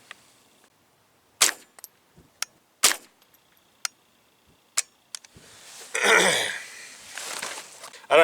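Gunshots are fired at a distant target on an outdoor range, heard as several sharp, separate cracks of varying loudness. Breathy handling noise and wind rustle follow toward the end.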